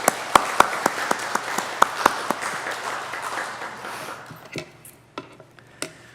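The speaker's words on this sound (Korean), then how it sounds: "우리 감사와 격려의 박수 드리겠습니다" A church congregation at a special early-morning prayer service claps in thanks after a men's ensemble sings, a few sharp distinct claps standing out over a soft patter of hands that thins out toward the end.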